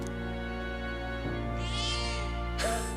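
A cat in Metaphor: ReFantazio gives two short meows, each a quick rising-then-falling cry, heard over a loud, steady droning musical bed with no talking.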